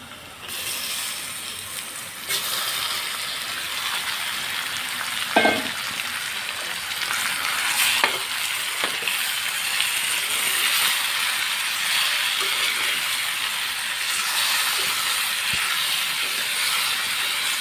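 Chicken pieces just added to hot oil in a pan for a simple chicken curry, giving a steady, loud broadband sizzle and hiss that runs throughout with a few brief clinks of a utensil.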